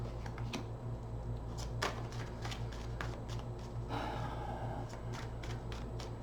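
Tarot cards being shuffled for a reading, a quiet run of soft riffling clicks and flicks against a steady low hum, with a brief burst of rapid fluttering partway through.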